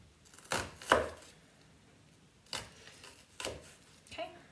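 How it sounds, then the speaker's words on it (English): A kitchen knife slices lengthwise incisions across an onion, angled on the sides and stopping short of the root, against a cutting board: a handful of crisp, close strokes spaced irregularly with quiet pauses between. "We're going to go right through, but we're not cutting through the root. So we're going all the way across our onion."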